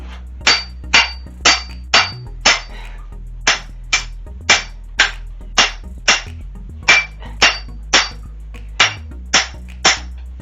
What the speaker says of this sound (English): I wouldn't be pounding on the steel like this